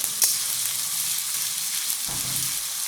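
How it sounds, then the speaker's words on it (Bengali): Ginger and green chillies fry in a pan for muri ghonto, with a continuous close bright sizzle and a single clink near the start. "আর কাঁচা লঙ্কাটাকে ভালো করে একটু ভাজা ভাজা করে নেব, আদার কাঁচা গন্ধটা চলে যাওয়ার জন্য।"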